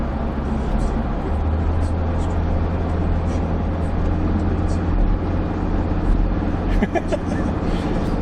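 A Land Rover Discovery 2, suspected of a coolant fault, driving on a road: a steady loud engine drone and road rumble from inside the cabin throughout, with no break.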